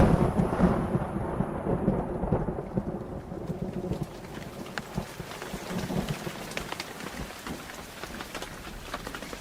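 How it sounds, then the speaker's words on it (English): Monsoon rain pours down on the Arizona desert with thunder, a steady heavy downpour hissing over low rolling rumbles that ease slightly midway, with no voices. "Monsoon rains pour down, and the desert takes a deep breath."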